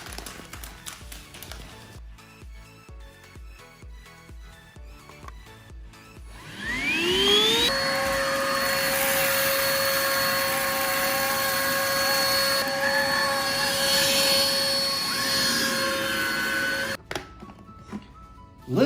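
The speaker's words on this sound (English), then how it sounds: "order your own Hoover 1 Power Evolve cordless upright vacuum, so you can use it on all of your surfaces" A Hoover ONEPWR Evolve cordless upright vacuum spins up on carpet with a rising whine, then holds a loud, steady motor hum for about ten seconds before cutting off, following quieter clicking and handling sounds.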